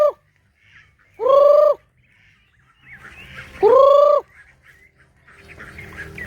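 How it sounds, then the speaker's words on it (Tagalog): Two loud, harsh honking calls from a duck or similar fowl, close by, with faint chatter and rustling in between. "pato itik."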